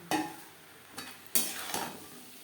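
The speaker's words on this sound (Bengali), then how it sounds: "থোড়ের সাথে মাছের মাথা বেশ ভালো করে মিক্সড করে দেবো" Stirring banana stem with fried fish head in a pan, a few scraping strokes of a spoon against the pan over a soft sizzle, close and moderately loud.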